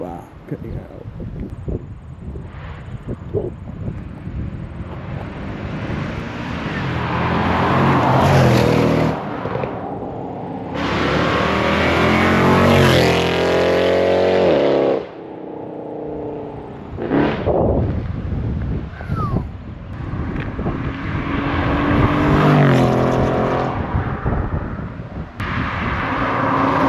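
A Mercedes C63 AMG W204 V8 exhaust roars loudly up close, rising and surging through revs in long blasts with short drops between, while people talk over it.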